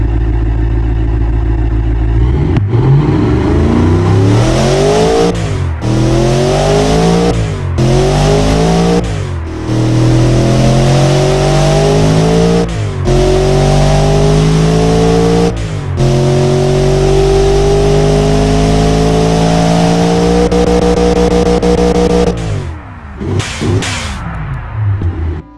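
Mercedes M113 V8 bored out into a tuner build with individual throttle bodies, in the Automation car game, revs up repeatedly in long climbing pulls with brief lifts between them, loud and close, ending in a few sharp blips.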